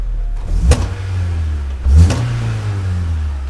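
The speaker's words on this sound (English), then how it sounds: "Fires right up." A Honda Civic EF engine cranks and catches twice in quick succession, then settles into a steady loud idle close by, with no voices.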